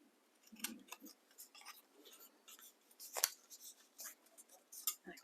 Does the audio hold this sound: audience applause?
no